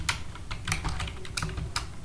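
Someone types code on a computer keyboard, producing a quick run of close, crisp key clicks in an irregular rhythm with no talking.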